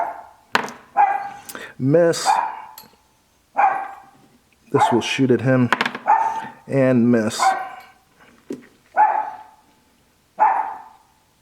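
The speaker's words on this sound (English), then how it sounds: "That's my dog." A dog barks a few times in the background while someone talks through a tabletop war board game, its short yips and woofs mixed in with and partly masked by his steady speech.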